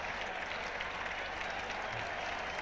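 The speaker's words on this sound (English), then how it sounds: "So that's about the biggest cheer of the day." Steady crowd applause and cheering at a Trent Bridge cricket test match in 1977, a broad continuous roar of clapping throughout with no clear voices over it.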